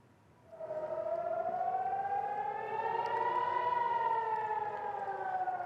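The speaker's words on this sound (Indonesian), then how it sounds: "Peringatan sirine berbunyi saat sejumlah rudal Iran melintas dan menghantam area permukiman di Nahariya, Israel" Civil defense warning siren sounding in Nahariya, Israel, during an Iranian missile attack: a loud, steady wailing tone that starts abruptly and rises slowly in pitch, holding strong throughout with no voices.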